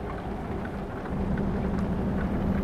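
Steady rain in American Truck Simulator pours over a truck driving in a convoy, a continuous broadband wash with low rumble that thickens midway and carries on without pause.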